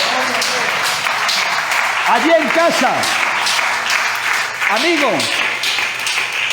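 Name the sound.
congregation applauding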